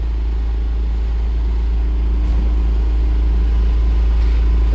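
Truck engine idling during a diagnostic check, a steady, even low rumble with a constant deep hum, close and unchanging throughout.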